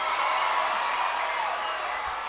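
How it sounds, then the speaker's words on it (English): A crowd at the 2019 NNL World Championship ninja competition course, making a steady, dense roar of cheering and noise that is a little distant and continuous throughout. "Can hear a lot of cheering behind us"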